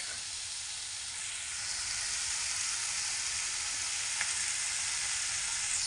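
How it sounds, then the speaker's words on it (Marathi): Onion fries in a pan with turmeric, giving a loud, steady, close sizzling hiss that barely changes, with one faint scrape midway and no voices. "आपला कांदा फ्राय होतो."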